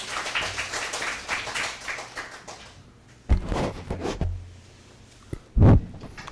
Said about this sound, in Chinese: 我们现在请各位鼓掌欢迎